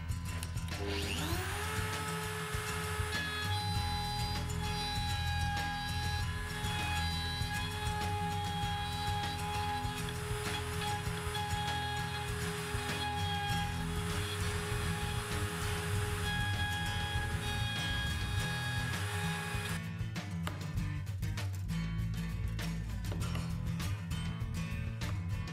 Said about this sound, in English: Now I will mill the rebate for the hinges.